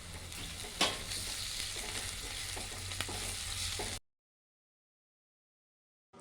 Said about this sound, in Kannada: ಸ್ವಲ್ಪ ಶುಂಠಿ ಬೆಳ್ಳುಳ್ಳಿ ಪೇಸ್ಟ್ ಆ್ಯಡ್ ಮಾಡ್ತಾ ಇದ್ದೀನಿ. ಈಗ ಚೆನ್ನಾಗಿ ಫ್ರೈ ಮಾಡ್ಕೊಳ್ಳಿ